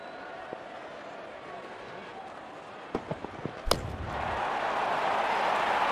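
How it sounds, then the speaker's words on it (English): A cricket bat strikes the ball for a six during a Zimbabwe vs Ireland one-day international. The impact is a sharp, loud crack after a few lighter knocks, and crowd noise swells behind it. "Made a cracking sound at the bat."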